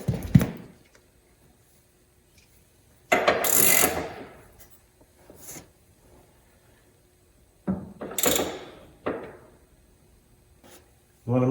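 A wrench tightens the nut on the tie rod of a Polaris RZR Pro R Turbo R during a toe adjustment, giving short bursts of ratcheting and mechanical clicking separated by quiet gaps, close to the microphone.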